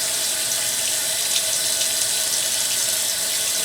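Water hisses and rushes steadily as an Epson Pro 3800 ink cartridge refill system is pressurized underwater, a loud, even, unbroken wash of sound.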